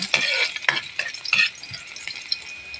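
Garlic drops into hot oil in a pan for squid adobo and crackles with a few sharp spits and stirring scrapes, loudest in the first second and a half, then settles into a quieter sizzle.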